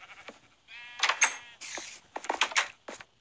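Sheep bleating in the Minecraft video game, a series of short nasal bleats spread over a few seconds, fairly close and clear with no talking over them.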